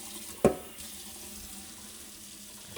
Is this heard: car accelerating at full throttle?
no